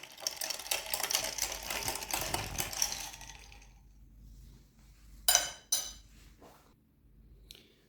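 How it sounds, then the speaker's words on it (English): A spoon stirs sugar into orange juice in a glass, a rapid clinking rattle for about three seconds, close and moderately loud, followed by a quiet pause and a couple of isolated sharp clinks. "Stir it so sugar will melt."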